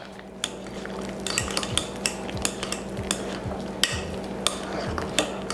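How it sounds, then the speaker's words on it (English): Heavy cream and half-and-half being mixed into mashed potatoes in a pot, with repeated clinking and scraping of a utensil against the pot rim in an irregular rhythm, close and fairly loud, without talk. "So I'm gonna add in our heavy cream in half and half and mix a bit more."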